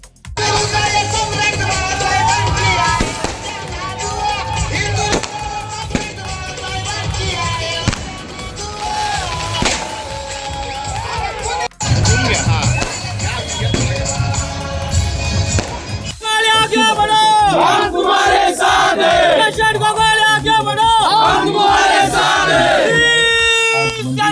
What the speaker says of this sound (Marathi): महाडमधील शिवाजी चौकात कार्यकर्त्यांनी जल्लोषाला सुरुवात केली आहे